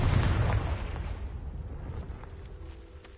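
Confringo spell blast in Hogwarts Legacy: a booming explosion bursts at the start, then rumbles and decays over a few seconds, alone without talk.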